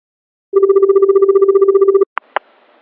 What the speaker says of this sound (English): Come on. Answer.